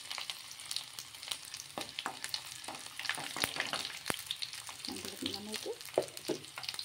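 Cumin seeds and halved garlic cloves crackle and sizzle steadily in hot oil as a tempering for a dal with Malabar spinach. The frying stays close and even, with sharp spits and pops throughout.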